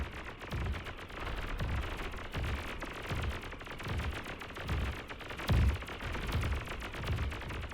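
Rapid gunfire from blitz units in the real-time strategy game BAR (Beyond All Reason), a steady stream of quick, evenly spaced low thumping shots with a heavier burst partway through, running alone without talk.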